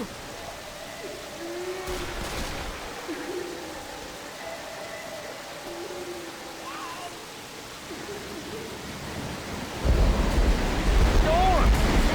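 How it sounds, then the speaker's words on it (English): Thunderstorm in the Left 4 Dead 2 video game: steady rain-like hiss with distant tones, then a loud rumbling burst of thunder near the end. "Storm!"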